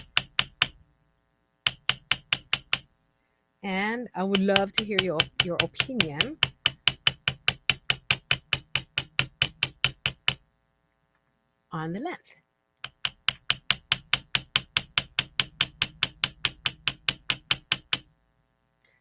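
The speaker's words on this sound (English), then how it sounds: "I'm deliberately hammering more on one side than on the other" Metal earring wire for Day of the Dead earrings hammered by hand on a hard surface: close, sharp, evenly spaced taps in long rhythmic runs, with short pauses and one brief stretch of someone speaking between runs.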